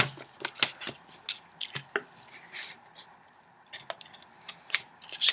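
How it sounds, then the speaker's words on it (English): Scissors snipping through a paper sheet while a paper cube is being made, a close series of short, crisp cuts with irregular rhythm and brief pauses, no talking. "So you take your favorite pair of scissors,"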